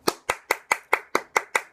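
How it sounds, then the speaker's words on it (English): Eight sharp, evenly spaced hand claps ring out in quick succession, close and distinct, as a small audience or single pair of hands keeps a brisk steady beat during a motivational talk. "Round of applause."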